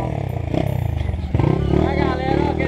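A modified trail motorcycle engine revs in rapid pulsing bursts close by on a dirt trail, loud and raspy, with people talking and shouting over it.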